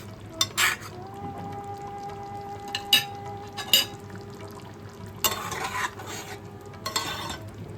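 Spoon stirring paneer masala with ghee in a metal pan, with soft sizzling under scattered scraping clinks of utensil against pan, plus a steady low hum, close by.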